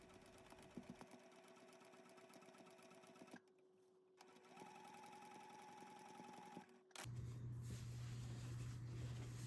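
Domestic sewing machine stitching along a line on a Sashiko tote bag strap, a steady whirring run that pauses briefly, resumes, then shifts to a louder, lower motor hum near the close.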